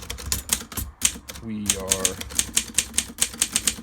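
Keys strike hard and steadily on a Voss typewriter, crisp individual clacks in a brisk irregular rhythm, close up, with a short pause where a person speaks a few words before the typing resumes.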